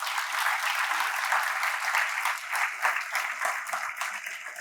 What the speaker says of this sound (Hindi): आप अपने सम्मान में एक बार तालियां बजाएं।